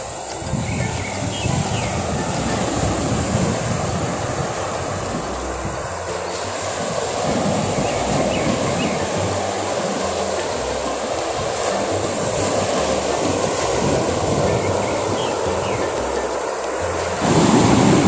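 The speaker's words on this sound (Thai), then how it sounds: "น้ำทะเลขึ้นเยอะมากเลยนะฮะนี่ครับ ใกล้ๆกับเต็นท์นักท่องเที่ยวเลยฮะ" Surf at high tide rolling onto Sam Phraya beach in Khao Sam Roi Yot National Park, close to campers' tents at dawn: a steady, broad wash of breaking waves with constant rumbling, fairly near and alone without voices.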